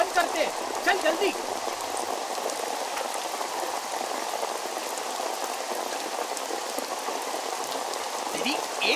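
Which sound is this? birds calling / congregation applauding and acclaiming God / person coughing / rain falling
rain falling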